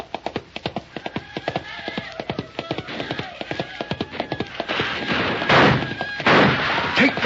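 A horse galloping, hooves pounding in a fast steady rhythm at close range, then giving way to louder rushing noise and thuds toward the end.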